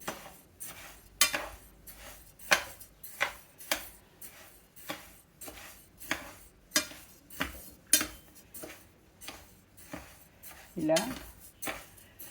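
Rice being dry-roasted in a pan for dosa flour, heard as a regular series of sharp metallic scrapes and clinks from a spoon stirring against the pan, close and roughly every second, with no voices.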